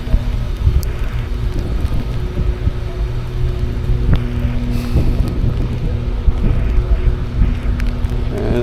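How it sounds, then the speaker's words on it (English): Loud gusting wind buffets the microphone, a constant low roar with a steady engine-like hum underneath. "It's getting a little crazy, a little windy."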